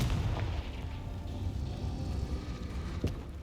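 Confringo blasting spell in the Hogwarts Legacy video game, heard as a continuous rumbling explosion with dense low booming that holds steady for several seconds and ends with a sharp pop near the close, loud and without talk.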